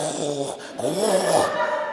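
A preacher imitating snoring at a church revival meeting, producing a few loud, drawn-out rasping snorts with a rising and falling rumble, close to the microphone.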